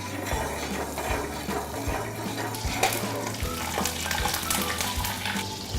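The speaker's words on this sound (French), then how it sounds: "Nous allons déposer une parcelle de beurre au fond du sautoir." A knob of butter melts in a sauté pan, giving a steady, even sizzle and bubbling hiss throughout with faint rhythmic low thumps underneath and no talking.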